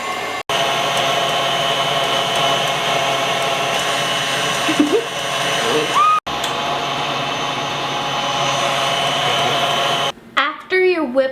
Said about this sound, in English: You want to raise the speed of the mixer as you go along